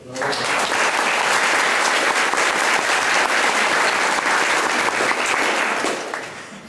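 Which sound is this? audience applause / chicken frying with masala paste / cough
audience applause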